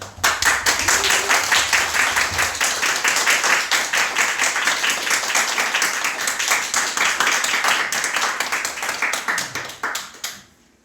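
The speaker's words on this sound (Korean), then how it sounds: "하나님께 영광의 박수를 올려드리도록 하겠습니다" Congregation applauding in a church after a call to give glory to God, as a Korean traditional-music gospel singer comes forward; sustained, dense clapping from many hands fills the space, then thins and fades near the end.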